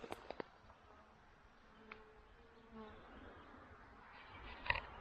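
Honeybees and bumblebees buzzing among flowers outdoors: a faint, thin drone drifts in and out with brief louder passes near the start and end, quiet and distant-sounding, no speech.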